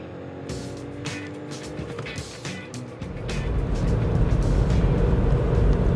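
A 2020 Skoda Fabia accelerates hard on a test drive, engine and road noise rising steadily and growing louder toward the end, heard from inside the car with no talk.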